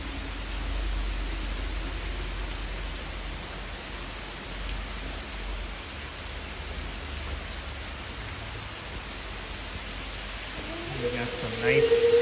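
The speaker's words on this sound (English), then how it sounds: "Here's some video of the rain hitting the puddles" Steady rain pours onto puddles on the ground outdoors, an even, close hiss of drops lasting throughout, with a voice speaking briefly near the end.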